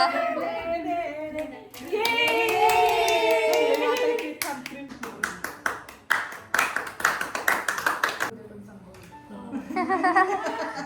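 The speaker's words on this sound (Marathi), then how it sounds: "टाळ्या वाजवा ग आता." Several people clap at a baby shower, a burst of quick, uneven hand claps with chatter and laughter before and after, then more talking as the clapping fades.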